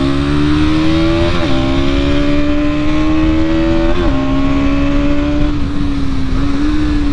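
A Bajaj Pulsar NS200 motorcycle engine revs loudly and steadily while riding, its pitch climbing through the gears with brief dips at shifts, close and continuous.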